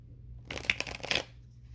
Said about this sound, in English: Let me shuffle these real good.